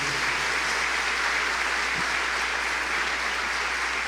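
A church congregation claps in sustained, even applause, a dense wash of hands that holds steady and fairly loud without talk over it.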